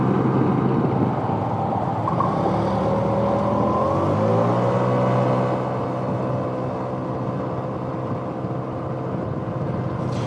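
A 2007 Yamaha C3 XF50 scooter accelerates wide open on a commute, its small engine droning loud and close with a steadily rising pitch, then settling into a sustained hum.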